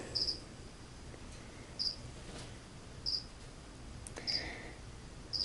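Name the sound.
cricket chirping, feeder cricket for tarantula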